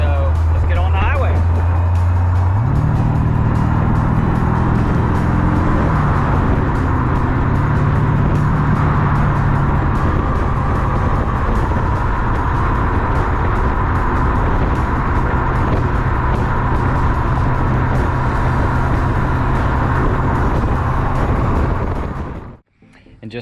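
A car cruises along the highway near Dayton, Ohio, heading toward Springfield, its engine and road roar steady and loud throughout, with a low engine tone shifting early on before fading out at the end.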